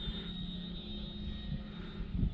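A Hacker XL Zoom profile model airplane flies overhead with a steady, whining motor drone that holds even and moderately distant, with no voices.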